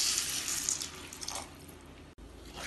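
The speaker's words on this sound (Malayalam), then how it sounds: "ഇതിലേക്ക് വെള്ളം ചേർക്കാം" Water poured into a pan of sautéed spices for a chayote curry, a near, bright splashing pour that tapers off, with a brief break near the end.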